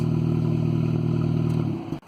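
A car engine is held at about 2,000 RPM while jump-starting a dead battery, a steady, loud mid-pitched drone that holds level for nearly two seconds before tapering off abruptly.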